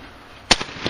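A shotgun fires at a skeet clay target at an outdoor skeet shoot: one sharp, loud blast followed by brief fading echoes.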